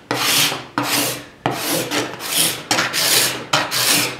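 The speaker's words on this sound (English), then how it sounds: "And then I can just scrape all day long." A cabinet scraper is drawn across the wooden body of a guitar in six steady, rasping strokes, each starting sharply and fading, close and loud with no talk.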